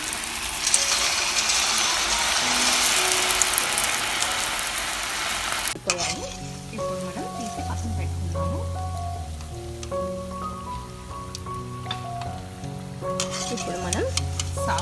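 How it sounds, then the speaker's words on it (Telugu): Cauliflower florets for gobi manchurian deep frying in hot oil, a loud dense hiss at first that drops to a softer bubbling crackle with stirring clinks, close and continuous with no voices. "కొద్ది కొద్దిగా వేసి వేయించుకోవాలండి."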